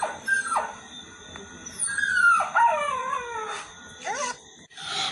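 A dog howls and whimpers close by, a run of drawn-out wavering howls with rising and falling pitch broken by short yips, loud and alone with no talking.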